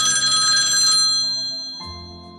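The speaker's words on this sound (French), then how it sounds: "le téléphone sonne" A telephone rings in an office, a bright, loud electronic bell trill lasting about a second, then a brief pause before a second ring starts, with no voices.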